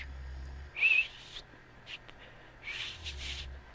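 Whistling in the video game Stray, two short bright whistle bursts separated by a pause, moderately loud over a quiet low background hum, with no talk.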